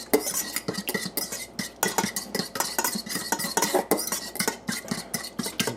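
A utensil stirs and scrapes through chicken stir fry in a wok, with rapid, repeated clattering strokes of metal on metal, close and fairly loud, with no talk.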